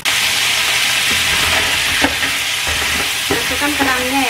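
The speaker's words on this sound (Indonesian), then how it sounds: "Tumis sampai harum." Minced garlic and shallots sizzle steadily in hot oil in a pan, with a spatula scraping and stirring in several distinct strokes over the continuous frying hiss; no voices.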